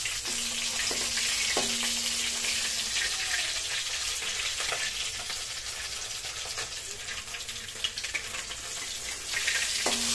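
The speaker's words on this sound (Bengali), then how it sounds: "দেখতে পাচ্ছেন এইখানটা আমাদের মাছটা খুব সুন্দর ভাজা হয়ে গেছে।" Tilapia fish fries in hot oil in a pan, a steady hissing sizzle with occasional clinks of a utensil, moderately quiet and without talk.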